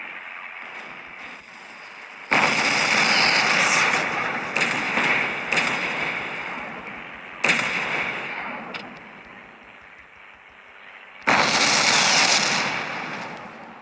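Battleship main guns firing in the World War Battleship game, O class battlecruiser: several loud booming salvos in bursts, each with a rolling decay, separated by quieter stretches of engine and sea ambience.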